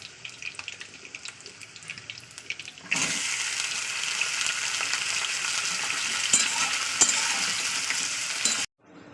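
Beetroot is tipped into a pan of frying onions, and a quiet simmer jumps into a loud, steady sizzle that holds for several seconds before cutting off, with no talking.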